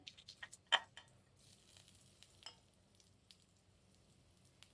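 Mustard seeds, chana dal and kalai dal fry in white oil. There is a faint, soft sizzle and a few quiet pops and ticks, with a small clatter near the start.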